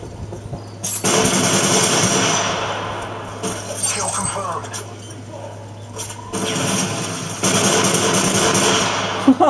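Rapid machine pistol gunfire in a shooter video game, a few loud sustained bursts separated by short pauses, with game sound effects mixed in.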